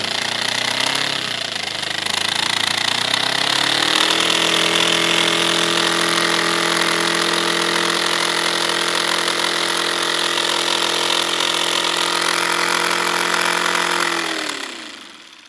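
A homemade paper model V-twin engine runs steadily, a buzzing, rattling mechanical hum that winds up after a couple of seconds, holds an even rapid pulse, then spins down at the end.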